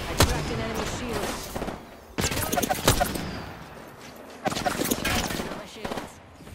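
Rapid gunfire in Apex Legends comes in three clustered bursts of crackling shots over a busy game mix, with voices heard along with it.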